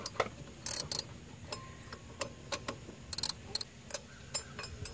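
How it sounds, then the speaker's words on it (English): A ratchet turning bolts on a truck's starter solenoid: scattered bursts of sharp clicking pawl ticks, some quick runs and some isolated clicks, fairly close and moderately quiet with gaps between strokes. "So I'm going to use the ratchet too for its intended purposes."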